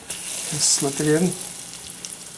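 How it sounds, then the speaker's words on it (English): Eggplant slices fry in oil in a pan, a soft crackling sizzle heard beneath a short spoken remark. "So here is the eggplant frying in the pan"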